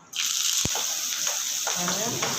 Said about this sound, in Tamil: நல்லா வெங்காயம் நல்லா வதங்கட்டும்